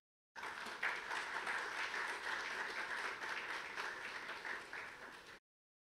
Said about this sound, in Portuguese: Vamos receber com uma salva de palmas